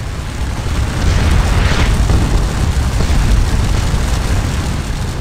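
Cannon bombardment in the Waterloo battle game Scourge of War, a sustained rumbling roar of booming guns, steady and heavy throughout with no voices.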